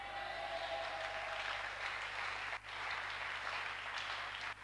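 A church congregation applauding during a sermon on baptism in the Holy Spirit, a dense continuous wash of clapping from many hands filling the room, steady and fairly loud with one brief dip partway through.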